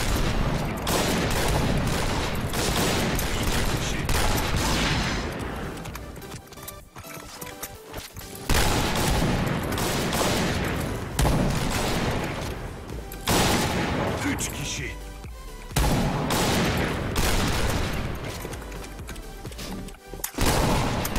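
Rapid bursts of gunfire from the online shooter Point Blank, a WWII-themed match with Kar98 rifles, crackling loud and dense through most of the stretch with brief lulls, while players talk over it.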